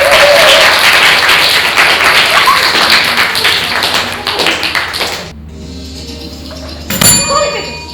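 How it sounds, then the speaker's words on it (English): Classroom applause at a private basic school emoji word-guessing quiz, a crowd of children clapping loudly and densely for the winner for about five seconds, then breaking off into quieter room noise with a brief clatter near the end. "Clap for him."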